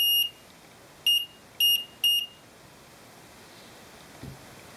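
Laser fence alarm triggered by a broken beam: four short, shrill electronic beeps, the first alone and three more in quick succession, ringing clearly over faint background hiss, followed by a soft rustle.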